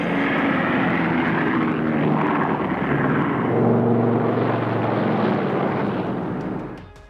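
Engines of a North American A.J. Savage carrier-based nuclear bomber, two propeller engines plus a jet, give a loud, steady, broadband roar that holds for several seconds before trailing off at the end.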